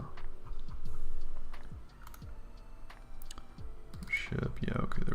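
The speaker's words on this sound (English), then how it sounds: "Oh, that's right, new keyboard." Typing on a new self-built computer keyboard: a run of crisp, irregular key clicks close to the microphone, with a brief louder rustle near the end.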